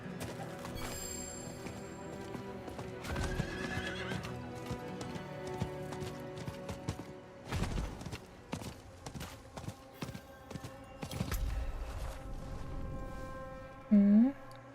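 A horse is ridden around a video game world, its clip-clopping hooves sounding in a steady rhythm through most of the stretch, with game effects and a brief tonal chime near the end, and no talk.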